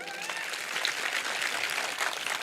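A seated audience at an Ambedkar Jayanti motivational speech claps steadily, a dense, even patter of many hands sustained at moderate loudness with no voices over it.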